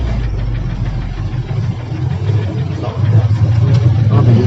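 A car engine runs steadily with a low rumble that swells a little louder toward the end, as if pulling away and driving off nearby.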